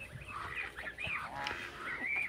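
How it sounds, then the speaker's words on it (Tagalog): Geese honking loudly and repeatedly on a rural province farm, harsh overlapping calls continuing throughout at moderate distance with other poultry noise around. "Kaya lang yung gansa sobrang ingay, sumobra ang ingay."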